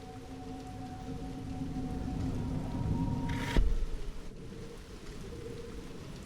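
Steady rain hisses continuously, with a brief sharper rush of sound partway through.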